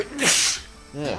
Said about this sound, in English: Sneezing is not helping my focus.